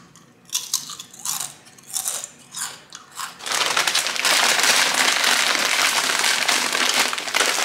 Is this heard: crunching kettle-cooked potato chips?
yes